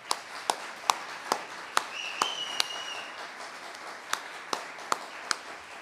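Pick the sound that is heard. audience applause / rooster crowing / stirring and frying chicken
audience applause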